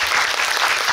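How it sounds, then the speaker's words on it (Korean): Loud, dense applause from a cinema audience at a film screening Q&A, honoring the actors, a full wash of clapping with no voices over it. "배우님들한테 박수 한번 쳐드릴까요?"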